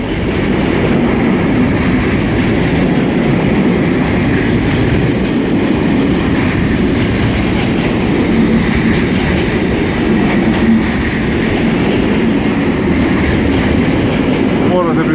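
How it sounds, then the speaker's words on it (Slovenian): A freight train rumbles steadily past at close range, wheels clattering and rolling continuously without a break for the whole stretch. "Imeli smo srečo, da vam pokažemo tudi vlak, ki pelje iz Ljubljane oziroma Kopra"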